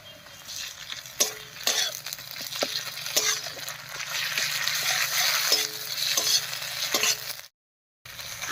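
Ginger and garlic paste hits hot oil among reddened onions in a pan, a continuous close sizzle punctuated by repeated rhythmic scrapes and clinks of stirring, ending in a short dropout before the frying resumes.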